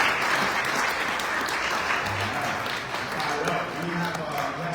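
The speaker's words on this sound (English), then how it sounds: "give him a round of applause" Loud, sustained applause from a crowd, steady dense clapping filling the whole moment, with some voices mixed in.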